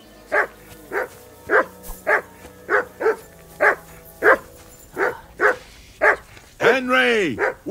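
A dog barks repeatedly in the medieval role-playing game Kingdom Come Deliverance II, about a dozen evenly spaced barks ending in a drawn-out whimpering yelp, with game voices around them.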